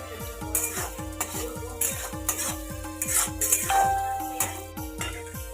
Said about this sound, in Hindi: प्याज भून देता है ना